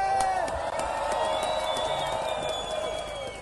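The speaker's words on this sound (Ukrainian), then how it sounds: "давайте їх привітаємо оплесками." A rally crowd claps and cheers for the security volunteers, making a loud continuous roar of applause with scattered whoops and sharp claps close by.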